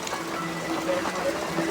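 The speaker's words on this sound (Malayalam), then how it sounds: "മഴ പെയ്തുകൊണ്ട്" Rain falls steadily outdoors in the morning, a soft, even hiss that holds without a break while someone walks through it.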